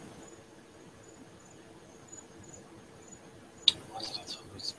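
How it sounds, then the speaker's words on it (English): Crickets or cicadas chirping outdoors, a faint, steady high-pitched pulsing that runs throughout, with a sharp noise and some rustling near the end. "the crickets are serenading you, or what are they, cicada or whatever"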